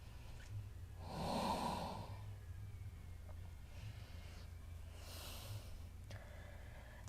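Soft breathing during a yoga downward facing dog, a slow exhale swelling early then a fainter breath later, quiet and close over a low steady hum, with no talking.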